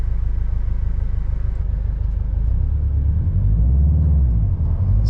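Induction noise from a 2018 Subaru WRX STI engine while driving, a deep, dense rumble heard from the cabin that swells louder toward the end as the throttle opens.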